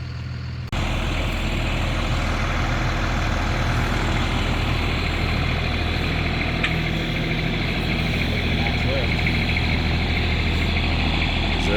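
A heavy excavator diesel engine catches and settles into a steady, loud idle, a low rumbling drone with mechanical vibration that runs continuously after a brief quiet start.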